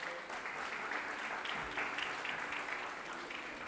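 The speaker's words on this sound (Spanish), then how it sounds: "dele un aplauso a Él." A church congregation breaks into applause during a Sunday service, brisk continuous clapping from many hands in a roomy space, fairly faint.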